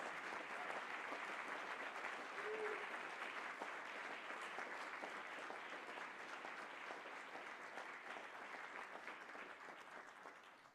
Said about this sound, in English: we should also give a big applause to Tommaso for all his work